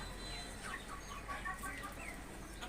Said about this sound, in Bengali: সবগুলি মোরগ একসাথে জড়ো হয়ে গেল দুন্দুল খাওয়ার জন্য।